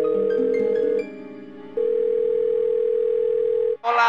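A telephone dial tone after a number is dialed on a phone: a loud, steady electronic tone that dips in level for a moment, then holds on before cutting off abruptly.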